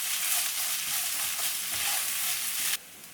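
Masala paste for mint rice sautés in a hot pan, giving a close, continuous sizzle with soft stirring scrapes and no talk, until it cuts off abruptly near the end.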